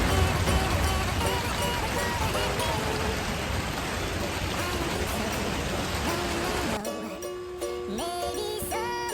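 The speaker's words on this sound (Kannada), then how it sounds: "ಫುಲ್ ಮಳೆ ಬೀಳ್ತಾ ಇದೆ" Heavy rain pours down in a dense, steady roar for most of the stretch, with a voice briefly audible near the end as the downpour continues underneath.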